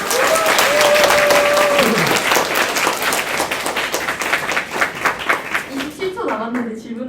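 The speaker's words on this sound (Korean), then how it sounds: "수고한 저희 팀원들을 위해서 박수 쳐주시면 좋을 것 같습니다" A conference audience at a student presentation on KBO baseball rankings claps for the team members, a loud, full round of applause that thins toward the end while a voice speaks over it.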